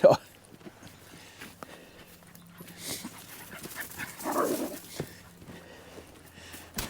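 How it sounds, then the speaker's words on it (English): Dogs outdoors near a cabin let out faint whimpers and yips under people's conversation, with light footsteps and quiet shuffling in the background. "the dogs love it out here. Maybe you can tell."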